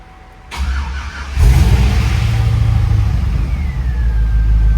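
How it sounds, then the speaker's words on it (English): A 1965 Ford F100 fitted with an LS engine cranks and fires up, settling into a loud, steady close-up rumble after a brief starter whir, with no talking. "Engine fires right up."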